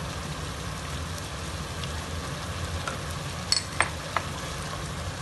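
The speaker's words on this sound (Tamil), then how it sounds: "நல்லா கொதிக்குது பாருங்க மசாலா," Masala for a fish curry bubbles and sizzles in a clay pot, a steady close crackling hiss with a few sharper pops and clinks toward the end.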